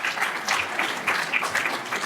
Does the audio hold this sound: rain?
no